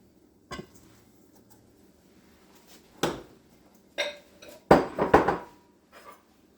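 Self-rising flour and sugar are stirred together in a bowl, giving scattered knocks and clinks of a utensil against the bowl in short bursts between quiet stretches.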